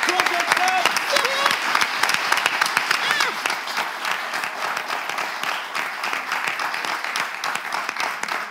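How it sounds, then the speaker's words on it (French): An audience at a live talk-show event applauds steadily for several seconds, a dense, sustained wash of many hands clapping, with a few voices mixed in under the clapping. "Est-ce qu'on peut déjà applaudir Togocom?"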